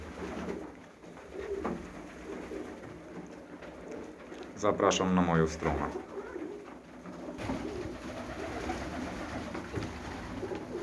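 Budapest tumbler pigeons in a loft give soft, steady coos, with a louder burst of wing clatter midway, while someone talks over them.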